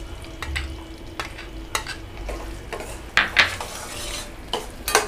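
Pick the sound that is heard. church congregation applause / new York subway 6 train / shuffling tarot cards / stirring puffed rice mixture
stirring puffed rice mixture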